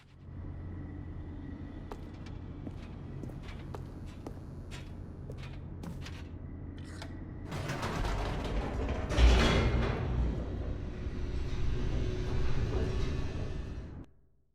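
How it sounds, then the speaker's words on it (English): Elevator descending in The Stanley Parable, a low mechanical rumble with creaks and clanks that swells into a louder grinding rush midway before stopping. "The elevator raced downward, plummeting towards an unknown fate"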